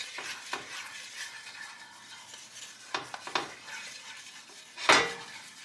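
A dish with homegrown freeze-dried chilies being stirred in a pan, with a soft scraping swirl, a low sizzle and a few clanks of the spoon against the pan, one louder knock near the end, close and without talk.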